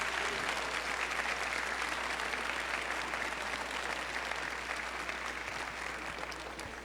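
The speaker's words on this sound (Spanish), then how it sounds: "Bien merecido ese aplauso, Alejandro." Audience applause fills a lecture hall after a conference talk, a steady, even wash of many hands clapping at moderate distance, continuing for several seconds and easing slightly toward the end.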